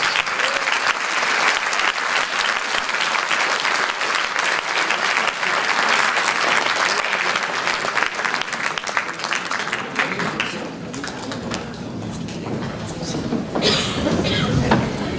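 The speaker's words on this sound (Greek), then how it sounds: "άλλο χειροκρότημα τη χοροδία του Δήμου Παλή." Concert audience applauds an adult municipal choir, sustained dense clapping filling the hall, thinning slightly toward the end before swelling again.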